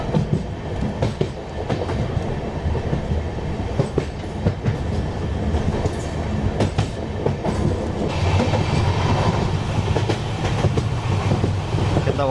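An express train crossing a bridge over flowing water, loud steady rumble with rhythmic clickety-clack wheel beats and metallic knocks, heard from aboard, without talk.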